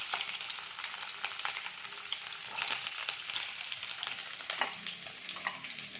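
Chopped ginger, garlic and shallots sizzle in hot oil after mustard seeds have popped, giving a close, steady frying hiss scattered with sharp crackles and no talking.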